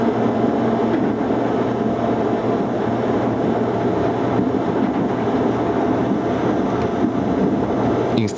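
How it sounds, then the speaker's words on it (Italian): Pontebba–Osoppo passenger train 53585 passing through a station on the Pontebbana railway, a loud steady rumble of wheels on rails with a low droning hum, continuous and close for several seconds. "In stazione incrociamo il treno 53585 Pontebba Osoppo."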